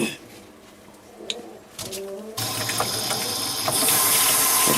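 Tap water starts running into a sink for a puppy's bath, a sudden steady rushing hiss that grows fuller as it fills, preceded by quieter room sounds and faint bird-like cooing.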